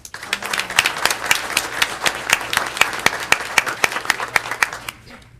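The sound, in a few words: audience applause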